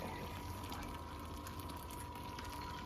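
Hops stirred into hot beer wort in a home-brew pot for a pale bitter: a faint, steady liquid swirl and wash that carries on evenly with no break.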